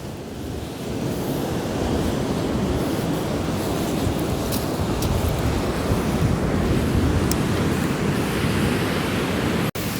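Sea waves break continuously on a beach along the coast between Mathalan and Mullivaikkal, a loud, steady roar of surf mixed with wind buffeting the microphone, with a sharp click near the end.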